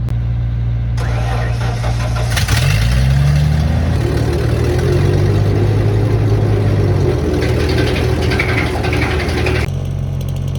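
A wood chipper engine on a farm starts up and runs steadily, loud and close, its pitch rising as it spins up and then holding a constant drone for several seconds.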